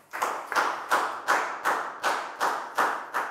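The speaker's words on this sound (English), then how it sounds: "a big round of applause for Lakau" A small classroom group claps together in a steady, evenly spaced rhythm, about eight synchronized claps close by and fairly loud, with no talking.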